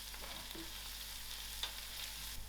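Curry leaves, garlic and mustard seeds fry in hot oil with a soft, steady sizzle and a few faint pops and crackles, no voices.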